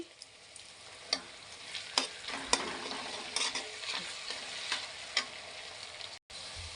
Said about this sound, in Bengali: পেঁয়াজগুলো আমি লাল করে ভাজবো